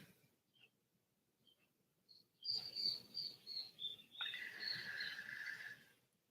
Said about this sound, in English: I hear the birds outside.